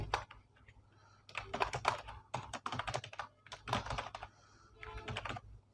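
Fast, irregular typing on a computer keyboard while entering text for a poster design in Adobe Illustrator, with bursts of close key clicks separated by brief pauses and no talking.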